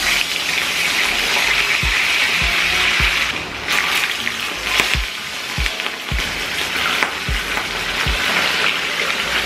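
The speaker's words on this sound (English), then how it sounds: "Let's fry these bad boys up" Chicharron frying in a pan on a home stove gives a steady, close hiss and crackle with occasional sharp pops throughout.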